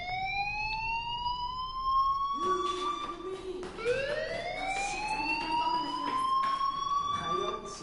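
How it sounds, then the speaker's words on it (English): A fire alarm in the game Life is Strange wails in long rising tones, loud and continuous, while people talk over it. "do you hear that fire alarm?"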